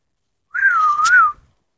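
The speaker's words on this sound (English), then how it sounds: "Something whistling at me." A single whistle at night in snowy weather, a steady wavering tone lasting under a second, fairly loud and close, with a brief breathy burst near its end, alone against silence.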